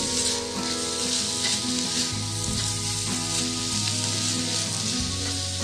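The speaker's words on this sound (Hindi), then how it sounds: "इसको थोड़ी देर के लिए भून लेंगे।" Onion masala fries in ghee for an egg and onion curry, making a continuous, even sizzle close by over a steady layer of background music.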